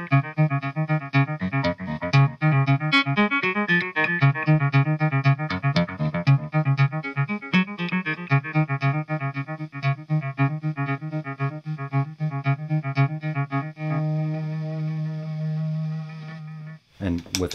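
Electric guitar through an effects pedal playing a rapid repeating note sequence, echoing swells blending into a continuous shimmer, then a long sustained chord fading before a brief noise.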